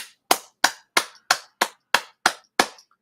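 Eight crisp, evenly spaced hand claps ring out alone, sharp and close, with a steady rhythm about a third of a second apart.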